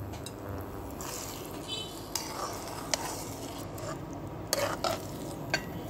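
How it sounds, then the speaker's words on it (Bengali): A spoon stirs jaggery into plum pickle in a pan over low to medium heat. It gives a steady close scraping and bubbling sizzle with occasional sharp clinks against the pan, and no one talks. "গুড় দেওয়ার পর এটা আমরা ভালোভাবে মিশিয়ে দিচ্ছি।"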